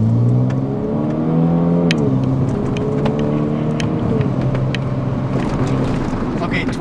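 Hyundai Veloster Turbo pulling hard from 20 to 60 mph, its engine note rising steadily through the gears with a brief dip at a shift, loud and continuous from inside the car.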